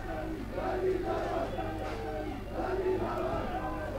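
Football supporters roar in a stadium, a broad rolling crowd noise that swells and dips steadily beneath a commentator speaking.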